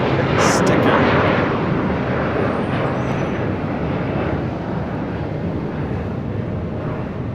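A Delta airliner's jet engines roar on the runway at a busy airport, a loud, steady, broadband rumble that holds for several seconds and slowly eases, with a brief high tone near the start.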